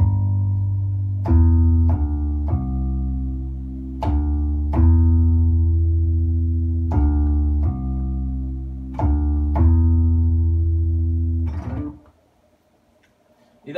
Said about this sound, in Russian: После этого я добавляю бас, бас-гитару.